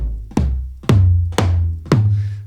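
Four sampled tom drum hits in a beat pattern, each a punchy low thud with a short decaying tail, evenly spaced and loud with no voices.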